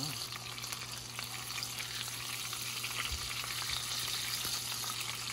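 Pork belly fries with butter over a campsite stove, a steady broadband sizzle with a low hum beneath, continuous and close throughout.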